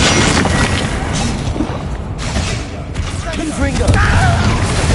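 Confringo and Bombarda spell blasts from Hogwarts Legacy, a dense, continuous run of booming and crackling impacts that stays loud throughout the clip, with a swell of combat noise near the end.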